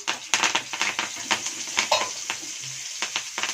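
Curry leaves frying in a little hot oil in a pan, with fish frying alongside, giving sharp crackling pops and sizzling bursts in an irregular rhythm, close and moderately loud.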